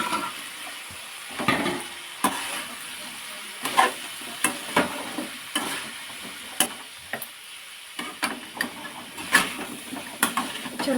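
Fried cabbage gobi manchurian being stir-fried with masala in a pan, with a steady sizzle under repeated scraping and clattering stirs at an uneven rhythm, close and fairly loud, no voices.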